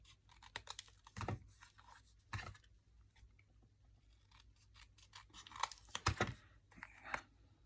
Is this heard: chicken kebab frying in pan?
no